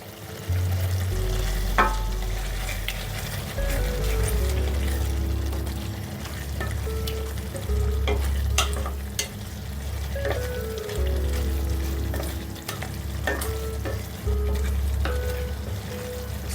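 Fried paneer is stirred into a sizzling, oily paneer matar masala curry in a pan, with loud steady frying and repeated scrapes and knocks of the spoon in slow rhythm.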